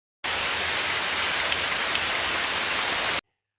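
Heavy rain pours steadily at night, a dense, even hiss of drops that starts and stops abruptly, with no thunder or voices.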